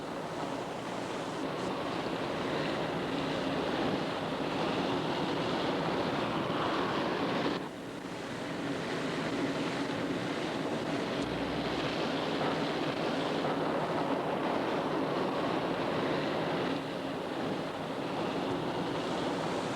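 Rushing rapids on the Awash River in Ethiopia, a constant loud roar of churning water that barely changes over twenty seconds, with a brief dip partway through.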